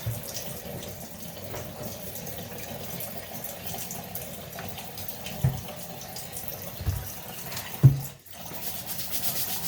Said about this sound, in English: Now you can rinse it off.